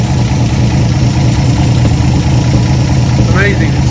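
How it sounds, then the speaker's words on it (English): A 1954 Chevy pickup engine, run after decades of sitting and fed from a boat fuel tank, idles steadily and loudly close by, with a brief squeal near the end. "we hooked the boat tank to it and it's idling"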